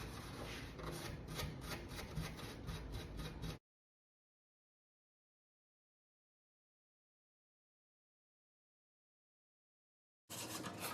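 Rapid back-and-forth rubbing of sandpaper on Ford F250 Super Duty headlight lenses, a gritty rasping rhythm for a few seconds, then silence before the scraping briefly resumes.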